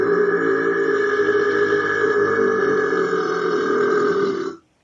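Amazon Alexa plays a long, loud, continuous recorded burp that holds steady for several seconds and then cuts off abruptly, heard alone without any talking.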